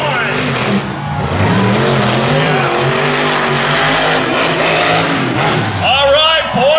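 A monster truck at a Tuff Trax event in Raleigh, loud engine roaring and revving down the track with tire noise, under an announcer talking over a PA throughout.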